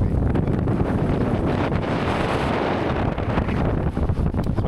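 Strong wind roars steadily into the microphone at a mountain campsite, a dense continuous rumble and hiss with gusty swells and no voices.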